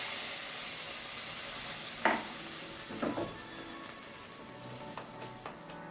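Hot oil tempering with mustard seeds is poured over handvo batter, giving a faint soft sizzle with a few brief clinks and stirring taps, quiet and close, no talking.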